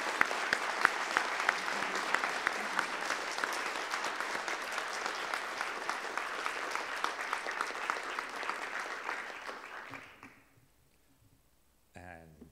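Room applause at a business lunch gathering, steady and dense for about ten seconds before quickly fading out, followed by near silence and a short faint noise at the end.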